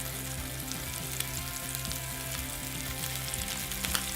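Snow crab meat sizzles steadily in a hot pan, a dense, continuous frying hiss with faint low hum underneath and occasional small crackles, close and even throughout.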